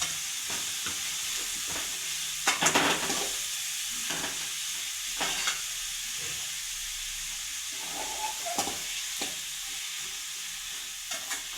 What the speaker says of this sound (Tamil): எல்லாத்தையும் போட்டு ஒரு வதக்குங்க. நல்லா வதங்கட்டும்.